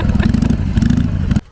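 A Honda Pan European ST1100 motorcycle engine revs hard and close, a loud, throbbing, continuous roar that cuts off abruptly near the end.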